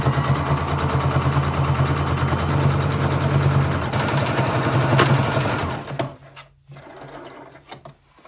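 Close, loud rapid whirring rattle of a sewing machine top-stitching along a fabric's top edge, running continuously before stopping abruptly, followed by quiet handling sounds.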